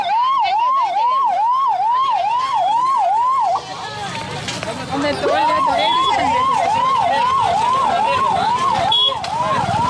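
A loud, close police siren wails in a steady repeating cycle at a crowded village fair, with a brief break partway through and background commotion underneath.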